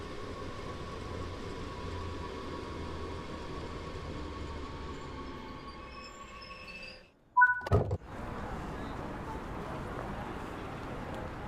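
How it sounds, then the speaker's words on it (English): A passenger train in Train Sim World 3 rolls in with a steady rumble and tonal hum, drops briefly to near silence, then gives a few sharp clunks before the rumble resumes; a voice talks over it. "I love the sound of this thing when it comes down."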